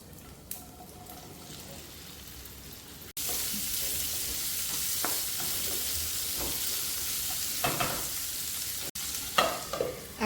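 Okra is added to hot oil seasoned with asafoetida. A quiet crackle gives way to a sudden loud, dense hiss of frying that holds steady, with a few clinks of utensils near the end.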